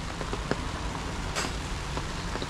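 Steady rain falls on a farm plot, a soft, even hiss with occasional louder drops tapping nearby surfaces, fairly faint and with no speech.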